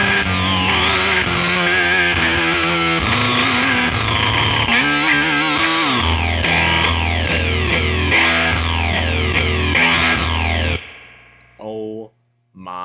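Electric guitar played through a Beetronics Swarm fuzz pedal on its low octave setting, giving thick, buzzing, distorted riffs with a deep sub-octave layer, loud and continuous before cutting off into a couple of short bursts.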